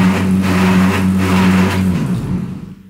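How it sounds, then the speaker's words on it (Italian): A Bosch tumble dryer makes an abnormal noise: a loud, steady, engine-like droning hum that holds for about two seconds, then fades out. "sono andato per avviare l'asciugatrice e guardate un po', guardate che rumore che fa"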